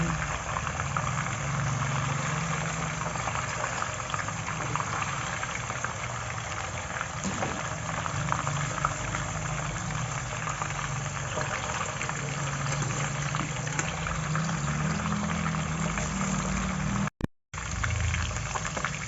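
Tofu frying in oil, a steady dense bubbling sizzle heard close and continuous throughout, with a brief dropout near the end, no talking.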